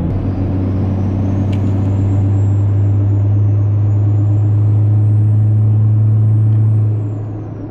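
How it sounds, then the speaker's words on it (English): Ford 6.7 Powerstroke diesel pickup with an open S&B intake and built VGT turbo, towing on the road: steady loud engine drone under a thin high turbo whistle that rises and falls, easing off near the end. "you definitely get a crazy turbo whistle with the open S&B and the built VGT turbo"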